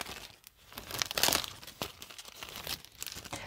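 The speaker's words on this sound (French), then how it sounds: "Une feuille de papier de riz, pour vous donner une idée." Thin rice paper crinkles and rustles as a sheet is handled up close, with a louder crackling burst partway through, no voices.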